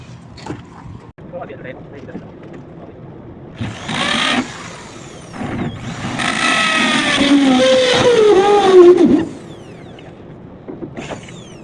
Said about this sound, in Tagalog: hawakan din natin yung barena at siyempre iti-texture natin yan